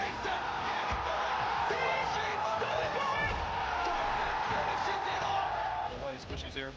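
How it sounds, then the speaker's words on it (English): A large live crowd at a Rocket League LAN event roars and whoops in a sustained wall of cheering, with yells rising out of the din and a caster's voice running over it, easing slightly near the end. "Listen to the crowd when he goes for a reset."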